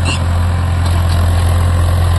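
A Farmtrac 6055 tractor working as a dozer, its diesel engine running steadily with a loud, deep continuous drone close by.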